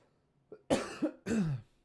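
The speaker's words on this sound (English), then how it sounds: "Sorry, I keep coughing, man." A man coughs three times in quick succession, close and fairly quiet, the last cough slightly longer and rougher.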